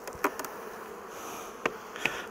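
Honey bees at an open beehive that has propolis on the frames and grilles and is being smoked, giving a soft, steady insect drone with a few brief clicks and taps from handling the hive nearby.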